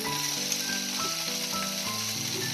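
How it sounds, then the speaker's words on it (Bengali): Capsicum and other vegetables for pasta sizzle steadily in a hot pan, a continuous crackling hiss with no one talking. "সবজিগুলো ভাজা হবে কিন্তু গলে যাবে না"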